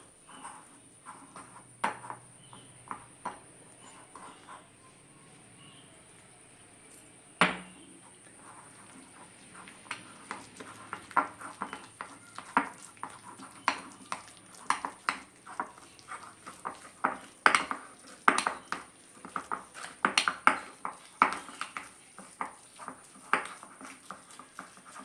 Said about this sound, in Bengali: অল্প অল্প করে জল দিয়ে একটা ব্যাটার তৈরি করে নেব